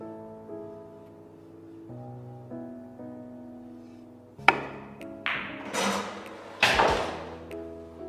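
A pool cue shot on the 9 ball: sharp, hard clacks of cue and balls, one loud strike followed by a couple more knocks, over soft background music.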